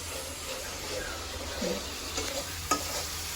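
A fish curry cooking in a pan, a steady frying sizzle with occasional stirring scrapes and one sharp clink of a utensil, close and continuous, with faint voices in the background.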